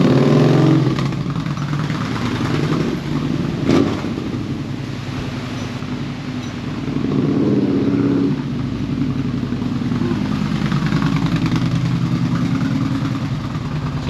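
A 2014 Yamaha Bolt motorcycle idles steadily close by, its low engine rumble holding an even rhythm for the whole stretch with a brief clatter partway through.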